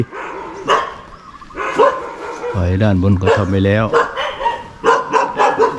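A dog barks in a burst of several loud, close yips and woofs partway through, with someone speaking before and after inside a house being shown during tile and paint work.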